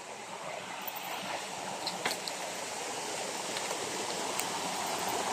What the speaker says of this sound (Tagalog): Ito yung Banisa Falls.